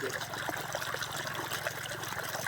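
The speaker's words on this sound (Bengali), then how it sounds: "শ্যালোর জলের স্পিড ভালোই আছে দেখা যাচ্ছে" Irrigation water runs steadily from a shallow tube-well pump into a potato field, a continuous close trickling and splashing wash under a low pump hum, with no talk.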